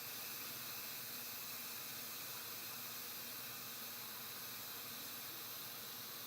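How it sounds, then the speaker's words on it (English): Steady, loud hiss of steam venting from an Instant Pot pressure cooker holding cabbage rolls, a continuous broadband rush that holds level without pause from start to finish. "We're releasing the remaining steam off our cabbage rolls."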